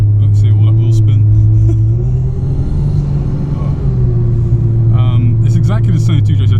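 A Mazda RX8 fitted with a 1JZ-GTE VVTI turbo engine spins its wheels, a loud, steady low engine drone with a rising and falling tone and bursts of high squeal near the end.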